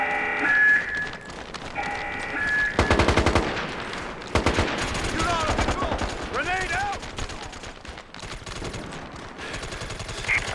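SVER assault rifle fire in the online shooter MAG, with loud rapid bursts of automatic gunfire broken by short pauses, plus game sound effects and radio voices in the mix.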